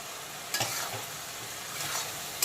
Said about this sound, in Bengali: এখন আবারও বেশ কিছুক্ষণ কাঁচা লঙ্কা আর পেঁয়াজ কুচিটাকে কষিয়ে নেব, ভেজে নেব